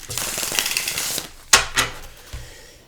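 Crisp riffling and slapping of soft tarot cards being shuffled, with a busy flurry early on and then a few sharp snaps near the end, close by.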